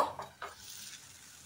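Tomato masala for a koi fish curry stirred and frying in a pan, a brief soft scrape with a couple of utensil knocks over a low sizzle, faint and close.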